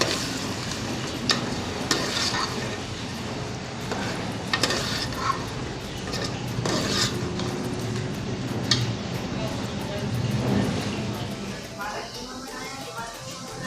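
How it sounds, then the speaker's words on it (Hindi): Tomatoes fry and get stirred in a pan for a spicy potato chicken curry, giving a steady sizzle with repeated scraping and clinks of a utensil against the pan, while a person talks throughout. "टमाटर को अच्छी तरह भूनेंगे।"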